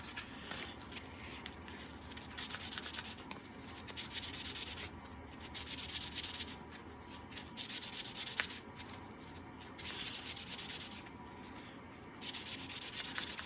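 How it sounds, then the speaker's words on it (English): A Cummins retrofit trunnion part is lightly sanded by hand, with repeated soft rasping strokes in a steady back-and-forth rhythm, close but quiet and without speech. "lightly sand it. Hopefully just remove some burrs or something"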